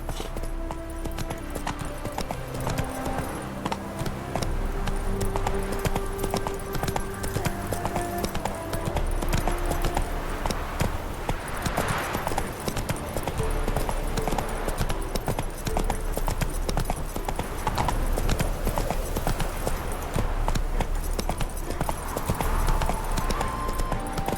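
Geralt's horse Roach gallops in The Witcher 3: Wild Hunt, a steady, continuous drumming of hooves carrying on throughout over game music.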